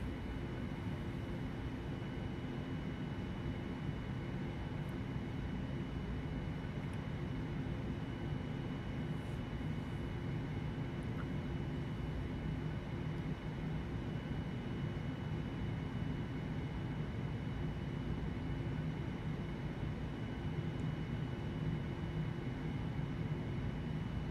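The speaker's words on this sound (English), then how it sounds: "and give the engines some power." A 787 airliner's engines in Flight Simulator X give a steady, dense rumbling roar during taxi at Melbourne. The drone stays constant and fairly loud for the whole stretch, and no one speaks.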